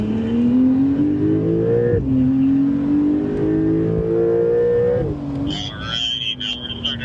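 A Porsche accelerating hard around a track at a Porsche Experience Center in Los Angeles, its engine note rising in two long sweeps with a brief lift between them, loud and close inside the cabin. A voice speaks over it.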